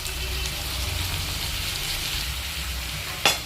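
Chunks of boiled potato and chopped onion fry lightly in oil left from frying rohu fish, a continuous close sizzle that holds steady, with one brief sharp clatter near the end.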